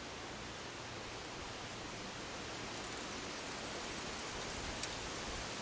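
A camping stove burning on high out in the woods gives a steady, loud hissing roar that stays even from start to finish, with no talking over it.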